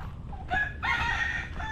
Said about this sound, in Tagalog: Itong mga manok, pinapakain ko lang saging muna.